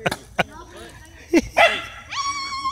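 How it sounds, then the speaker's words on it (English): A dog gives several short barks and yips, followed by a higher whining, whimpering call, fairly close and loud. "Here comes a dog."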